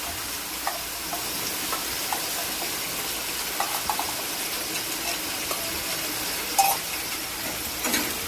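Potatoes fry in a spice mixture with a dense, continuous sizzle and occasional soft stirring knocks, close and even throughout without speech.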